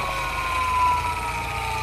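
Fiido Q1 low-rider electric bike motor whining under throttle, a steady tonal hum with a rising pitch held for about two seconds, fairly close and with no talking.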